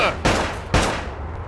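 Gunfire in the Xbox video game Bad Boys: Miami Takedown, two loud close bursts about half a second apart with a ringing tail fading afterward.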